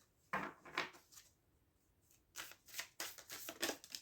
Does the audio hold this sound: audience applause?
no